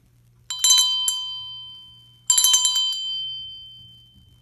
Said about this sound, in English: I can call my cat by ringing a bell